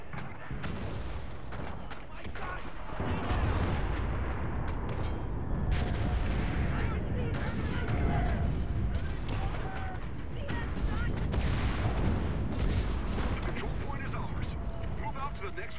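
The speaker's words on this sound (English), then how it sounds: "Requesting for artillery fire!" Artillery fire in the World War II shooter Enlisted, a dense continuous barrage of booming blasts and rattling gunfire with no pause, loud and close throughout.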